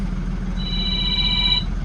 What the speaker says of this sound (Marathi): आला परत फोन.